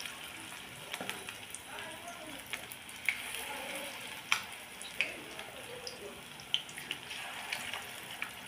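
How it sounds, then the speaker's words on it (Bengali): Fish roe fritters fry in oil over a low gas flame, giving a soft continuous sizzle with occasional small pops and utensil clicks. "এক পিঠ ভালো করে ভাজা হলে তারপর আমি আর এক পিঠ উল্টে দেবো"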